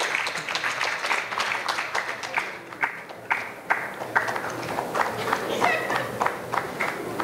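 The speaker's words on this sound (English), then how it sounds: "Another big clap" Clapping from an audience at a women's finance awards ceremony in an Accra hotel thins out into distinct, fairly regular individual claps, close and crisp, with a brief dip partway through before picking up again.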